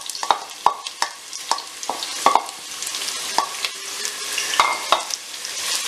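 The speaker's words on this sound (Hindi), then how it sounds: "सबसे पहले मैंने आधे कप से थोड़ा सा कम ऑयल जो है वो पैन में गरम कर लिया है। अब इसमें जाएगी प्याज" Onions fry in hot oil in a pan, with a close sizzle punctuated by a series of sharp utensil clicks and taps at an irregular rhythm.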